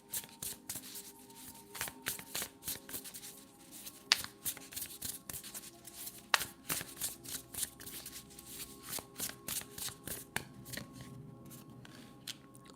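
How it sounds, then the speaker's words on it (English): Tarot cards are shuffled close by in a long run of quick, papery riffles and soft slaps, steady and fairly quiet, with no voices over them. "Too many cards. Let's reshuffle."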